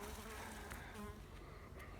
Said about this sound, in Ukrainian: Бджола атакує мене, не дуже мені рада.